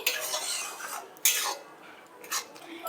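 A spoon scrapes and stirs spices with cashew, white sesame and ginger paste in a pan while cooking Bengali aloo dum, a few short clinking strokes close and clear.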